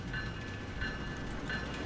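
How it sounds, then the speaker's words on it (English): An AI-controlled train in the Roblox game Lawcountry rumbles past nearby with a steady loud rolling roar and faint rhythmic clicks of the wheels, alone without talk. "I'm not sure if any other game currently on Roblox has a train, but here's the train"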